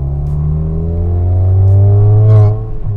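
A Volkswagen Golf engine revs hard with a loud, deep, sustained exhaust drone, then drops off with a couple of brief pops right after the revs fall.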